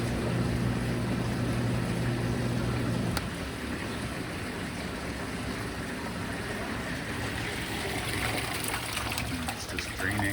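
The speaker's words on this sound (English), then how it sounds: "It's just draining." Water drains from a laboratory recirculating flume after its pump is switched off. A continuous, fairly loud trickling wash carries a low hum that cuts out early, then the draining continues as a steady rush.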